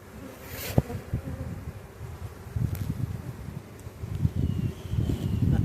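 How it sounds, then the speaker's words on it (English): Honeybees buzz on a brood frame pulled from a hive, a continuous low drone with small surges and a few sharper passes close to the microphone, with no talk. "That is all little baby girl bees."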